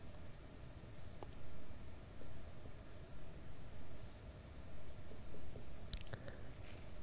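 Pen or chalk writing out a geometry proof about quadrilaterals, soft faint scratching strokes in short bursts over a quiet hissy background, close by with no talk.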